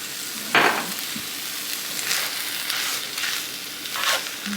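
A spoon stirring Cajun seafood rice in a hot sizzling pan, giving several soft scraping strokes at a steady pace over a continuous low frying hiss, close by and with no voices.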